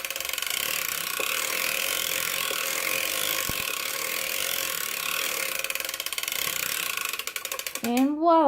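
Knitting machine carriage working the last rows of a cuff-down sock to narrow the ankle, a steady mechanical ratcheting and clattering running continuously throughout at close range, with a brief whirring sweep near the end.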